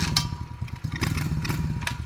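Small X-Pro 125cc youth pit bike engine running after starting, a quiet, uneven chugging idle with light mechanical clatter and a few sharp ticks.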